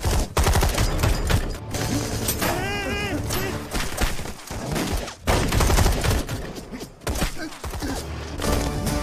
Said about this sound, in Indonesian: Tanpa pikir apapun, Guna menembak Venkat.